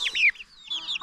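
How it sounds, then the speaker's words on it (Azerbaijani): Small chicks cheep in high, quick chirps with soft clucking, close and alone with no talk, at a village poultry yard in Zərnava, İsmayıllı district. "Oy cücələrim. Ay cücələr."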